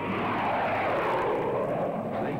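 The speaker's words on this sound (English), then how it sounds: "Planes. How low they're flying." Low-flying propeller airplanes roar overhead in an old sci-fi creature feature, a loud, continuous engine drone that fills the whole moment.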